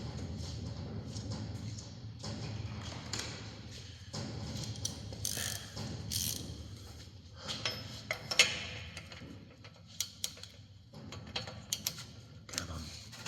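A ratchet tightens an O2 sensor on a Mercedes, with faint, irregular clicking bursts, scattered metallic ticks and a few sharper clanks in a quiet workshop, with occasional speech.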